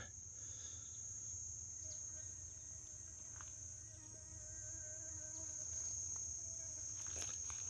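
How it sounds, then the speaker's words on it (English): A steady, shrill cicada chorus drones on continuously, with the faint buzz of flies drifting in and out, outdoors in the Little Karoo and fairly close. "A few flies are joining in the chorus with the cicadas, singing along."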